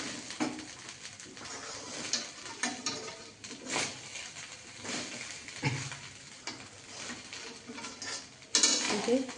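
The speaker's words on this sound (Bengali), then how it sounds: "মিক্সড হয়ে গেল আর একটু ভাজা ভাজা করে নেবো" A spatula stirs and tosses vegetable fried rice in a pan, giving quiet, irregular scrapes and clinks of metal with a faint sizzle underneath and no talking.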